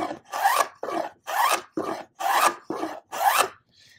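Hand plane cutting a 45-degree bevel along a wooden edge to form a roundover, seven loud, close rasping strokes in an even rhythm, each separated by brief silence.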